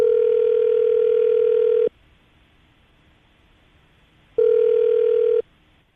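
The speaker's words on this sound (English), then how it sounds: "We're going to call her right now, get her on the phone, and see if we can get an answer." A telephone ringback tone sounds while a call is being placed, two loud steady buzzes about two seconds and one second long separated by a silent gap.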